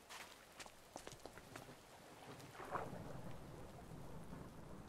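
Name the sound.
thunderstorm in Minecraft video game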